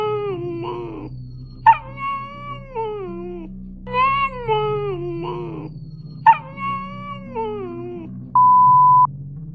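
A small dog gives repeated whining, howl-like vocal calls that rise and fall in a speech-like two-syllable pattern, several times in a row, loud and close, followed by a short electronic beep at the end.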